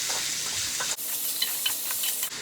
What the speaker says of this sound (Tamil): கொஞ்சம் வெங்காயம் நல்லா வேகட்டுங்க